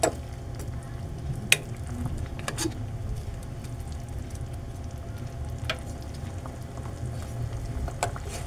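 Fried salmon steak simmering in sauce in a pan, a steady low bubbling and sizzling bed broken by occasional sharp pops and clinks, with no one talking.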